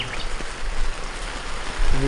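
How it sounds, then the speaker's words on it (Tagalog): Very strong, heavy rain pours steadily during a long downpour as a dense, close wash of noise, with a voice speaking faintly underneath. "It keeps on raining up to now, so almost 48 hours already. Look at that, very strong rain"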